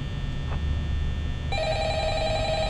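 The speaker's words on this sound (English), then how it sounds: "Oh, we're getting another phone call" A telephone rings in the Five Nights at Freddy's video game, a steady electronic trilling tone that starts partway through and continues loudly over a low background hum.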